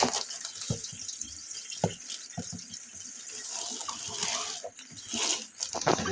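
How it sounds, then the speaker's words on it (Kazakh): Water trickles and drips steadily through a perforated strainer, close and fairly soft, with a few splashy bursts. "Тесік тазик астынан су ағып кетеді."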